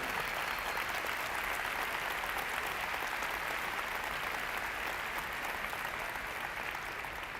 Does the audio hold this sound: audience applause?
yes